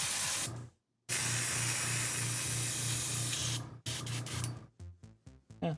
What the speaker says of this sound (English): Clean airbrush.